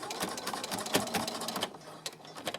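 A sewing machine runs a straight stitch through a fabric coaster made of scrap twine, giving a fast, even chatter of needle strokes with brief pauses, close and moderately quiet.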